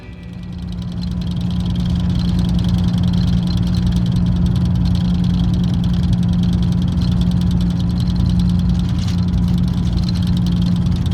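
A bus travels southbound on the I-5 highway at about 80 miles an hour. A loud, steady, low engine and road roar fills the whole span with no breaks, and no one speaks.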